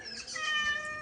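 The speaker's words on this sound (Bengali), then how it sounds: "ওই দেখ বিড়ালটা ডাকছে, দেখ ম্যাও ম্যাও বলে।" A cat meows in a close, clear, drawn-out call, a single tonal cry lasting about a second with no talking over it.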